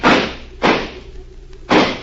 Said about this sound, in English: I'm going to shoot the lock off the door.